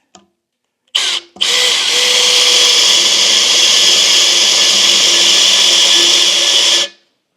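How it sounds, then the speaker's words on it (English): A power drill bores into the steel housing of a Scout's Dana 44 rear axle, with a short burst, a brief pause, then a long steady high-pitched whine held for several seconds before stopping. It is loud and close. "Okay, back to drilling."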